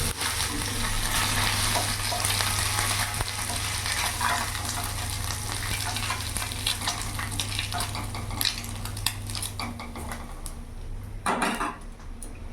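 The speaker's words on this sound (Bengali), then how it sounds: "ওই তেলের মধ্যে আমি উচ্ছেগুলো ভেজে নেব।" Bitter gourd slices frying in oil left from frying small fish, a loud continuous sizzle close by, with metal utensil scrapes and pan clatter toward the end.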